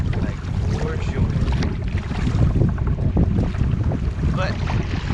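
Steady wind rushes and buffets the microphone while out on the Napa River in a narrow, streamlined Hobie Compass kayak during fall striper fishing in rough water, a constant roar with faint watery sloshing and no talking.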